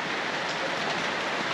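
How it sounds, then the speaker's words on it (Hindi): Rain falls at the Patnitop hill station viewpoint as an even, close hiss that holds steady throughout with no voices. "आपके लिए बारिश में भी घूमने को आ गए हैं ताकि आपको दिखा पाए कैसा दिखता है इधर से।"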